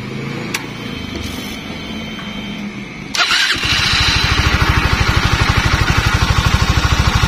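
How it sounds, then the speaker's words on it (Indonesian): A Honda CBR 150 motorcycle engine cranks briefly and catches, then settles into a loud, steady idle with a rapid, even pulse. "Sekarang coba kita hidupkan"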